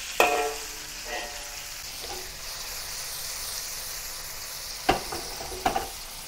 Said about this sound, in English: Let it pan fry one side for a while.